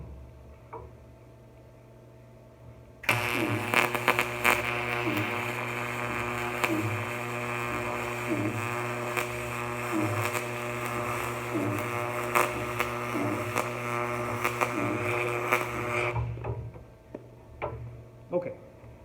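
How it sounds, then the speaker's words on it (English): A Harbor Freight MIG welder runs a bead on aluminum with a steady, continuous buzzing crackle for about thirteen seconds. Faint regular ticks sound through it, and a low electrical hum sits underneath before and after the arc. "So let's do a simple weld here and see how it turns out."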